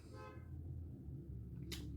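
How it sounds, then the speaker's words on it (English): A car horn gives a single short honk at the start, faint and distant over a low steady background hum. "Somebody's honking."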